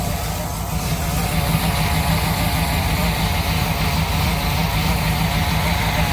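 Noisy power steering pump on a 1965 Ford Thunderbird under rebuild, a loud, steady whirring drone over the idling engine, close and continuous with no pauses.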